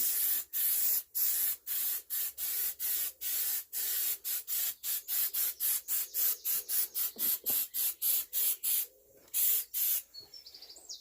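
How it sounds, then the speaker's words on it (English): A Halfords aerosol can sprays paint onto John Deere 115 parts in many short, loud, hissing bursts with brief gaps between them, while birds chirp faintly in the background. "Don't I love aerosols?"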